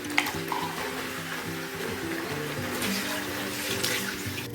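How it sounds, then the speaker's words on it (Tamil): Steady stream of water pouring and splashing into a cooking pot of basmati rice, continuous and fairly loud, with faint kitchen clatter. "இப்போ நாலரை டம்ளர் தண்ணி ஊற்றிக்கலாம்"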